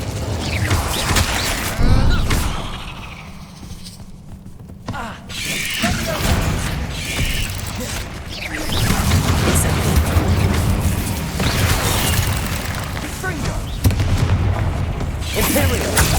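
Incendio fire spells in Hogwarts Legacy burst repeatedly with booming, crackling whooshes and shattering impacts amid constant combat noise, a brief quieter stretch early on, and voices shouting over the loud action.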